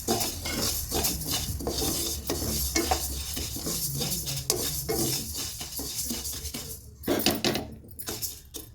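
Mustard seeds tipped into hot oil for a stuffed red chilli pickle, crackling and spluttering steadily up close amid clinking of a pot and utensil, with a louder burst of popping near the end and no speech.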